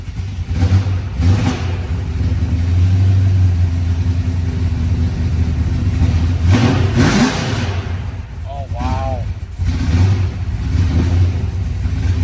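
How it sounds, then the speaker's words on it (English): A 1972 Chevrolet Chevelle with a 572 engine roars loudly and up close, its rumbling idle rising into sharp revs that climb fast, while someone talks and exclaims over the engine noise. "How fast that RPM climbs."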